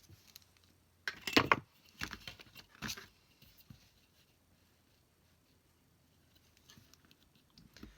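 Paper is trimmed with scissors to make a junk journal fan pocket: a few short, crisp snips and rustles close by, followed by near silence.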